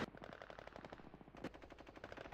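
Rapid bursts of automatic gunfire in the video game Battlefield rattle on continuously at a distance, with a few heavier shots standing out near the end.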